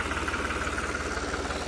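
A Holland 3630 tractor engine idles with a low, evenly pulsing diesel throb, a brief steady stretch of close, rhythmic chugging with no voices.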